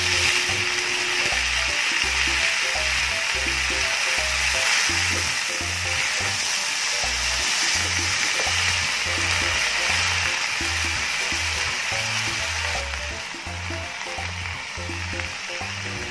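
Lagikway leaves cook in a pan with onion and garlic, giving a loud, continuous frying sizzle with a rhythmic stirring beat underneath that eases slightly toward the end.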